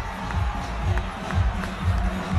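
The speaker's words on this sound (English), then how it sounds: "Crowd is losing their minds." A stadium crowd cheers loudly during a tense card-game final in South Africa, a dense continuous roar with rhythmic swells like chanting or clapping, heard from within the audience.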